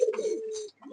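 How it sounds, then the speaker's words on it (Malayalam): Pigeons in a loft give a close, clear throaty coo, a single low rolling call followed by a short pause and the start of another. "ഇതെല്ലാം ലേനേജിലുള്ള പ്രാവുകളാണ്."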